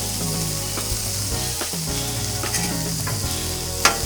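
Burger patties sizzle on a Blackstone flat-top griddle with a constant loud crackle and hiss, close by, broken by a few scraping spatula sounds and a sharp clank near the end.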